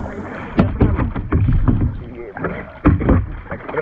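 A kayak paddled on the sea at Cola Beach in South Goa during a friendly race, with repeated splashy paddle strokes in an uneven rhythm and voices calling out over them.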